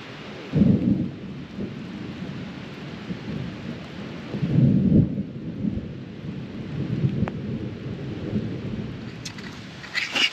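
Heavy rain pours steadily at Red River Gorge atop Indian Staircase, with deep rolling thunder swelling several times over the dense hiss of the downpour; no talking.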